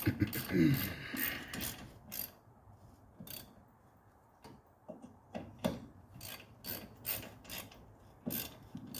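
A hand ratchet tightens tiny bolts while installing new brake hoses, giving close, crisp bursts of clicking in short irregular runs with quiet pauses between strokes.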